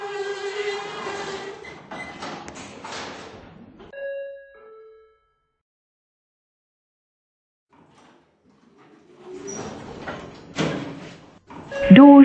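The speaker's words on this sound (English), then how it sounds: "Doors closing." Sliding doors of a Schindler 5500 lift closing in the Roblox video game, with electronic voice-like tones and a short chime, then a long quiet gap before louder mechanical door movement and clatter resume.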